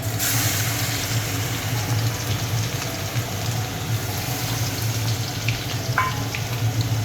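Ground garlic paste fries in hot oil with a steady, dense sizzle that carries on without a break, close and moderately loud.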